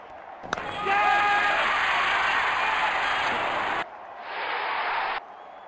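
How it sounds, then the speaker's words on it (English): Crowd cheering in a Real Cricket mobile cricket game, a loud sustained roar of a stadium crowd that cuts off abruptly, then a shorter burst of cheering swells up and stops. "Crowd is going crazy."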